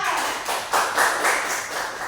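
Hands clap together in a classroom during a primary school civics lesson, a short burst of rhythmic claps over roughly two seconds, fairly close and steady, with a little chatter mixed in.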